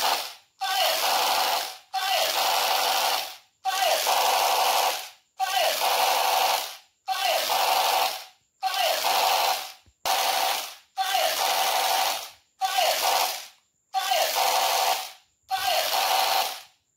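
Repeated bursts of bright, buzzy electronic sound from a toy laser gun playing music, about ten short blasts with brief gaps between them, loud and close.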